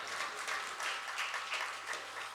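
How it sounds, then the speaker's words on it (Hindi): Audience applause at a Jain temple event for Lord Rishabhdev's Nirvana Mahotsav, a steady wash of many hands clapping together throughout, moderately loud and continuous with no speech. "एक बार इनको फिर दोबारा ताली बजा दो।"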